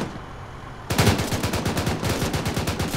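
Automatic gunfire bursts out in the military shooter ArmA 3, opening fire on a BTR armored vehicle. After a quiet start, a loud, steady, rapid stream of shots runs to the end.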